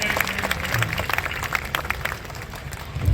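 A crowd at a Hindi comic poetry gathering (kavi sammelan) on Assi Ghat, Banaras, claps in a brief burst of steady applause.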